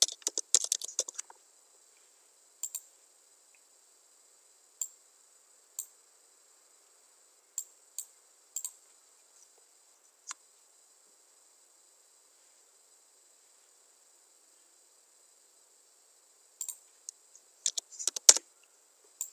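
Sparse keystrokes on a computer keyboard while working in a Microsoft Excel spreadsheet, short bursts of rapid typing at the start and end with isolated single clicks spaced between, quiet and close with no talking.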